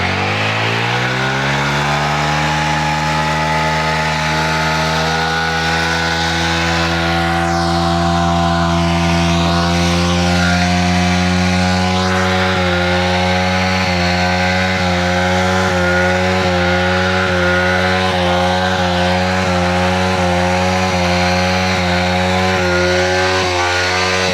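A Yamaha MT-15 motorcycle engine revs hard and loud during a rolling burnout, a steady high buzzing roar that rises slightly, then pulses rapidly as if bouncing off the limiter, up close and without talk.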